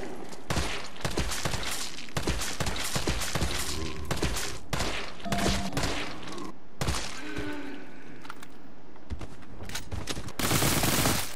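Repeated gunfire from a weapon in Resident Evil 3 Remake, a series of loud sharp shots spaced irregularly over several seconds, mixed with game sounds like impacts and creature groans, ending in a harsh noisy burst.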